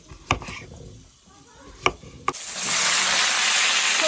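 Pork belly dropped into a hot pan: a few sharp knocks and clatters, then a loud, steady sizzle of frying fat that fills the rest.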